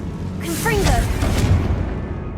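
A Confringo fire spell bursting in Hogwarts Legacy, a loud booming blast with a whooshing swell and crackling tail that fades out over about two seconds, with a voice briefly audible within it.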